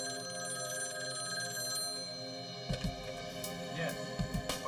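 A telephone rings in a tense scene, a steady electronic bell tone heard over a low background, followed by a few thumps and handling noises toward the end.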